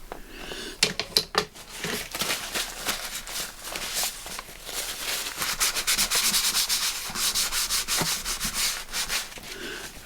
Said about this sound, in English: let's give that a really good burnish